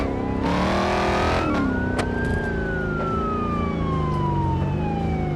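A police car's siren wails in BeamNG Drive, its tone sweeping up and slowly gliding down, close and loud over a steady car engine rumble, with no talking.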